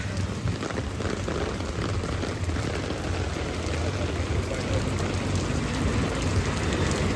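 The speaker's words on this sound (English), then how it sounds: "This rain is heavy, you guys." Heavy rain pours down steadily on a street in Monrovia, Liberia, during the August rainy season, a dense, continuous hiss close by with no break and no voices.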